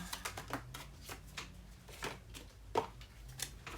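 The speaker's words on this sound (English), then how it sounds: "I'm just doing a good faith shuffle" Cosmo Tarot cards being shuffled in the hands, a quick close series of soft papery riffles and taps, fairly quiet with no one talking.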